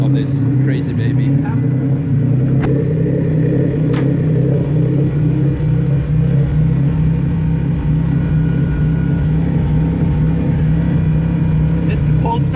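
A tuned 800hp car engine idles high on its cold start map, giving a loud, steady, continuous low rumble with a constant throb and no revving.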